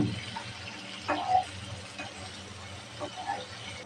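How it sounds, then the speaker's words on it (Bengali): A little broth is poured into dried lotia fish simmering in a pan, giving a soft, brief splash and sizzle close by, with light stirring clatter. "একটু কষানোর জন্য হালকা একটু ঝোল দিয়ে দেব।"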